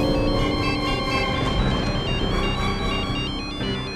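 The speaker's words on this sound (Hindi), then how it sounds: "ये इस वक्त मुझे फोन क्यों कर रहा है?" A telephone ringtone plays loudly and steadily for about four seconds, a repeating electronic melody with no voices over it, in a Hindi TV serial scene.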